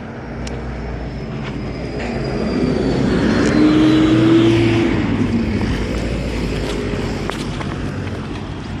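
A city bus drives past on a street, its engine rumble swelling to a peak midway and then fading, with a faint tonal whine sliding across the pass.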